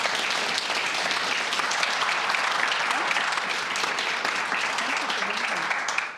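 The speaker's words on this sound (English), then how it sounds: "How about a round of applause for our special guest this evening?" Audience at an evening community conversation gives a guest a sustained round of applause, thick and even throughout, with some voices mixed in before it fades at the end.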